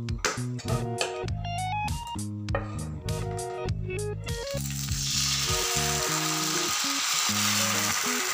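Sabudana and vari dosa frying on a pan, a steady close sizzle that fills the second half under tuneful background music, with the first half mostly music.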